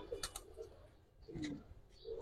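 Giribaz pigeons coo softly and close by in a few brief, low murmuring calls, with faint rustling between them.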